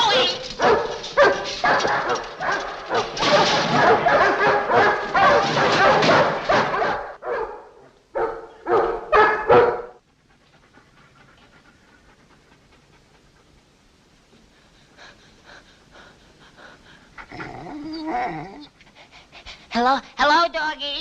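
Dogs panting hard and close, with short barks, yips and whimpers in busy bursts, then a quieter stretch before more excited panting returns.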